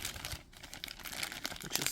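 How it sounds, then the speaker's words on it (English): Anime figure base being pulled from plastic blister packaging: soft crinkling and crackling of thin plastic, with light taps and rustles, close and fairly quiet. "So let's go ahead and get Kanna out of her blister."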